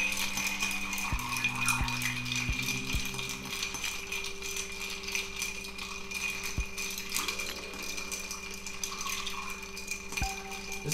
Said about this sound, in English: And we'll give it a stir.